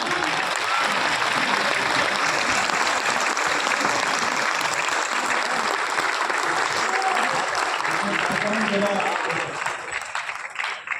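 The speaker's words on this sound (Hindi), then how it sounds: "तालियां जरा जोरदार होनी चाहिए।" Loud sustained applause from an audience at a Hindi poetry recital by a poet, thick and even for most of the stretch, thinning into scattered claps near the end with voices faintly underneath.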